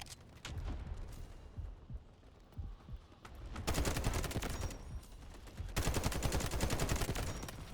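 Scattered single shots at first, then dense bursts of rapid automatic gunfire from the shooter Delta Force, loud and close, with brief pauses between the heavy volleys.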